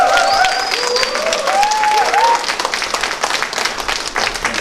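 An audience at a local election candidates' debate breaks into loud, sustained applause and cheering, clapping dense and close throughout with voices mixed into the crowd noise.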